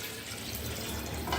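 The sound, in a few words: hot water poured into chicken curry pot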